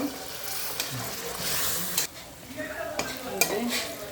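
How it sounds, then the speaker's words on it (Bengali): Steady sizzling and hissing of beef liver stir-frying in oil, with stirring scrapes and a few sharp metallic clinks from a spatula against the pan. "এই যে কলিজাটা ভালো করে কষাই নিচ্ছি। তেল উপরে উঠে চলে আসছে"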